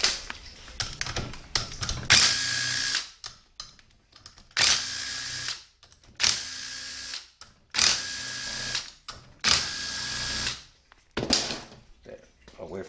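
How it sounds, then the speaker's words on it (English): A ratchet backs 7mm bolts out of a 6L80-E transmission valve body, producing several close, rasping bursts of rapid clicking, each lasting about a second and separated by short pauses. "Now let's take our 7mm bolts out."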